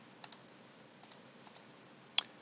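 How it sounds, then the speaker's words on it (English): Calculator keys are pressed to enter matrix data, giving faint, light plastic clicks in pairs at an uneven pace, with one sharper press near the end. "now I can type in my data"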